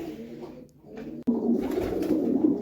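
Low, throaty cooing from pigeons close by, one of them ill, a soft rolling murmur that swells and continues, with a sharp click partway through.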